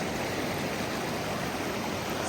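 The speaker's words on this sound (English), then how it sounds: "So this is the Hoh River." The Hoh River flows through the Hoh Rainforest in the Pacific Northwest, giving a steady, dense rushing of water with no voices.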